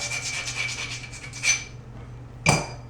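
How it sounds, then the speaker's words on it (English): A rubbing stone scrapes repeatedly along the sharp cut edge of a shower floor tile in quick rasping strokes, followed by two sharper grinding scuffs, heard close with no talk. "you want to get a rubbing stone and just smooth out the edges, because that's really sharp"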